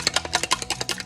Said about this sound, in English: I'm going to whisk them real quick.